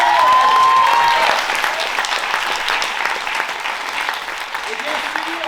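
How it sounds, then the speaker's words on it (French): Audience at an improv comedy show applauding, a loud, close wash of clapping that starts strong and tapers slightly while staying sustained, with some voices mixed in. "On les applaudit."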